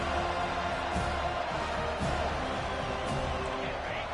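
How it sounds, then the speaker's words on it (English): College football stadium crowd at Michigan vs Florida State roaring steadily as a dense, loud wash of cheering, with a commentator's voice faintly underneath. "This crowd bringing an ear-splitting welcome to their visitors."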